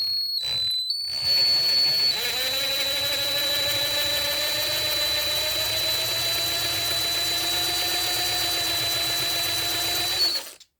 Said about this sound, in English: Drill out the center.